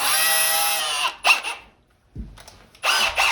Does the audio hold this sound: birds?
no